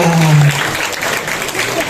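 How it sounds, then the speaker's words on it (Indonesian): An audience at an Islamic religious lecture for Maulid Nabi bursts into applause, a dense clapping that runs under a brief spoken voice at the start and continues steadily to the end. "Tepuk tangan dulu."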